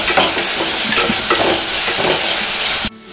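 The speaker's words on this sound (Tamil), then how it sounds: "இஞ்சி பூண்டு பேஸ்ட்டை நம்ம மிக்ஸ் பண்ணி நல்லா வதக்கிடலாம்" Ginger garlic paste and green chillies sauté in a hot pan for sweet corn biryani, giving a loud, steady sizzle with scraping stirs throughout, cut off abruptly near the end.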